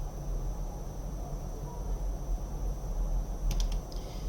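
Computer keyboard keystrokes from a key combination pressed over a low steady hum, a few quick light clicks clustered near the end, close and faint.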